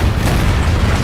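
A heavy cannon boom from a ship battle in Assassin's Creed Black Flag fills the moment, a loud dense rumbling blast sustained throughout with no speech.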